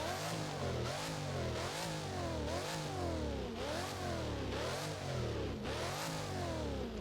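A car engine revs up and down repeatedly in the video game Driving Empire, steady rising and falling sweeps, loud and continuous with a synthetic, game-like tone.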